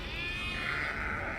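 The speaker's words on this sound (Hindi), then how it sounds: "तो गाइस देखो कितनी सारी भेड़ बकरियां हैं।" Sheep and goats in a village bleat together, a faint, continuous chorus of overlapping calls over a low rumbling background.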